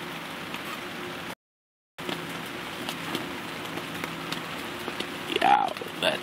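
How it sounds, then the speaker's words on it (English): Soft, steady rain hisses in the dark, with a brief moment of silence early on and a faint higher sound near the end. "Rainy night."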